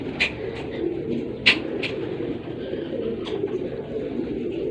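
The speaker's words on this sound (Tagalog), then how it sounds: "Kalapate." A pigeon coos in low, soft, repeated calls over a steady murmur, with a few brief sharp chirps and clicks scattered through.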